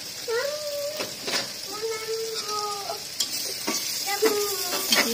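Beef with cumin, coriander and turmeric sizzles and is stirred in a pan with onions, a steady frying hiss close by while a voice talks over it.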